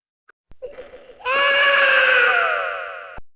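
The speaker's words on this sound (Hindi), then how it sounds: "फिर उसे बच्चे के रोने की आवाज सुनाई पड़ी" A child's crying in a horror animation: a few short whimpers rise into a long, loud, wavering wail that ends abruptly.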